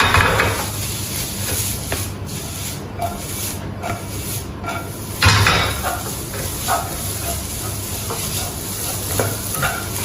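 Mie goreng Jawa with mustard greens being stir-fried in a pan: a steady close sizzle with repeated scraping stirs and a brief louder surge midway, with no talking.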